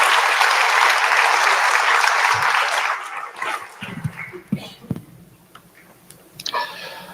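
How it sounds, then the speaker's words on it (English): Applause for graduating 8th graders at a middle school move-up ceremony, a dense crowd clapping that fills the first three seconds, then thins into scattered claps and small knocks as it dies away. "Let's give them a round of applause."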